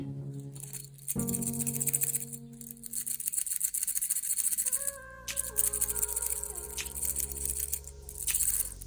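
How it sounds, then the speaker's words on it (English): The metal bracelet of a 40-euro watch is shaken up close in bursts of soft, fine, scratchy rattling, with a few brighter clinks among them. "This is the sound of a bracelet for a 40 euro watch."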